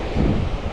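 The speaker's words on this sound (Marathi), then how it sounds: "आता थोडा वारा सुटला आहे." Wind gusts across a microphone on a beach during a surf fishing tournament, a steady low rumble of buffeting that swells slightly midway through a brief stretch.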